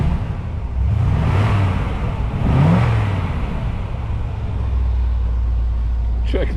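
A 1960 Chevrolet Bel Air with freshly installed exhaust, revved twice in quick blips that rise and fall over a loud, throaty idle, recorded close by.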